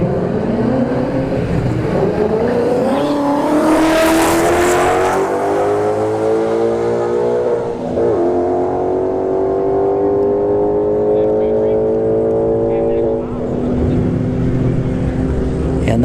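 S197 Mustang and a BMW launching side by side in a drag race at Bradenton Motorsports Park, loud engines revving and climbing through gears with rising harmonic whine, sustained roar throughout with a voice talking over it.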